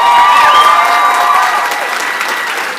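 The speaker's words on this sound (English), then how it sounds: "Give them a round of applause." Applause and some cheering from the audience at a pitch competition, loud and dense, holding steady through the whole stretch and easing off only slightly near the end.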